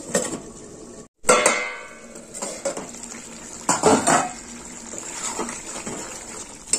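A metal lid clanks onto a pot of simmering cauliflower curry made with yogurt, followed by scattered clinks and a steady watery bubbling hiss under the clatter.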